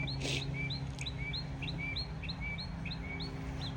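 Small birds chirp at sunset outdoors, a run of quick repeated tweets at a steady rhythm over a low background hum, distant and fairly faint.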